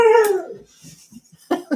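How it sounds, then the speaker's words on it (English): A dog lets out a long, loud howling yelp close by that slides downward and fades, followed by quieter scattered whimpers and a brief final bark. "that was our dog yelling"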